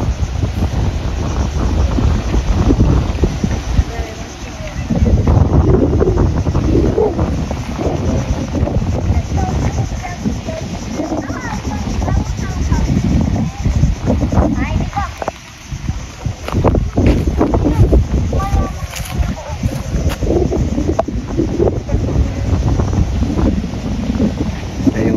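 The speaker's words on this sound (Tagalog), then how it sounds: "Dito tayo sa tabing dagat ngayon." Strong, gusty wind buffets the microphone at the seaside over a low, constant roar of open water and surf, continuous for the whole stretch.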